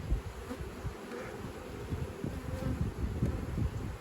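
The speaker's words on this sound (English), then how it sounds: "There's just so many bees on the frame" Honey bees crowd a hive frame, their buzzing a soft, steady drone that stays continuous throughout.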